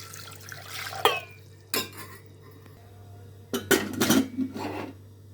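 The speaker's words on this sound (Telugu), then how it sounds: "ఇలా వీటిలో ఒక్కసారి శుభ్రంగా కడుక్కొని తగిన నీళ్ళు పోసుకొని ఉడికించుకుందాం" Jackfruit seeds and water are swirled in a metal pot, with a few separate bursts of clinking and sloshing between quiet pauses.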